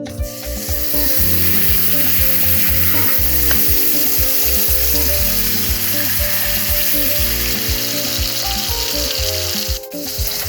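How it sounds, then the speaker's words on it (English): Steady loud sizzling and crackling of sirloin steak frying in butter in a hot pan, continuous throughout, with a low rhythmic background pulse and no talking. "Let's add our steak to the pan. Listen for this sizzle"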